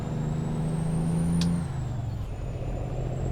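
A truck's air parking brake engaging in a trucking video game: a sharp, short hiss of released air midway over a steady idling diesel engine drone, close and loud.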